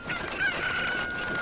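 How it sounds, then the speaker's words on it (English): Chicken in the Zelda Ocarina of Time video game, giving a close, clear cock-a-doodle-doo style crow with clucking tones that rings out alone for over a second. "There should be a chicken in here, at least."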